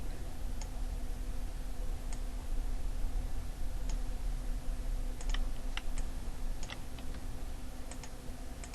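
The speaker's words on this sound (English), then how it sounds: "I'm going to go ahead and shift click right here." A computer keyboard and mouse are used for shift-clicking, producing scattered sharp clicks and taps over a constant background hum, close and fairly quiet.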